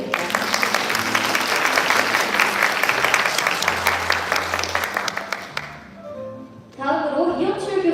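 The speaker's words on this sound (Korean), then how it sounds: "큰 박수 부탁드립니다." An audience at a student mock parliament event claps in a dense, steady burst of applause for about six seconds, then it fades out and a voice starts speaking.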